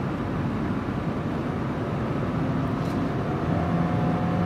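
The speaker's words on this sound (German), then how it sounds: "jetzt werden die Windgeräusche schon ein bisschen lauter" Wind noise inside a 2018 Subaru Forester 2.0X at highway speed, around 160 km/h, a constant broadband rush mixed with road roar, steady and fairly loud with no talking.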